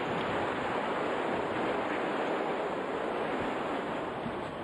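Steady, loud wind and rain roaring without pause in the aftermath of Super Typhoon Megi in Isabela, a dense wash of noise with no voices.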